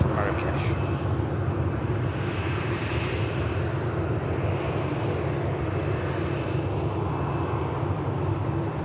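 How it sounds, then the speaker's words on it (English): An EasyJet airliner arriving from Marrakesh at an airport, its engines a steady, loud broadband roar that holds throughout, with a brief higher whine near the start. "Here's the EasyJet from Marrakesh."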